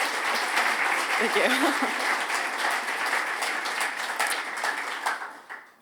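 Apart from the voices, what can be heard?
audience applause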